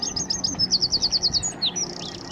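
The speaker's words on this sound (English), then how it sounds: "This is a wren, one of Britain's smallest birds." A wren sings close by in Nottingham in April, rapid high chirps building into a fast, evenly pulsed trill before ending in a few short notes over faint background hum.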